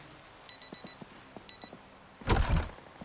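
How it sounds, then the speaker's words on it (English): An alarm clock in the video game Project Zomboid rings with rapid bursts of high electronic beeps, two rounds of them, followed by a heavier rustling thud close by. "Had the alarm set that time."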